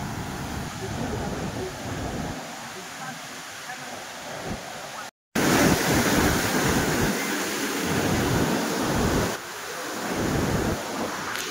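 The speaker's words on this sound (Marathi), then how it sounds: "बघा काय किती फ्लो आहे बघा पाण्याला" Water rushes hard at Mula Dam, a loud, continuous roar of heavy flow that briefly drops out and then surges back, with voices blending into the noise.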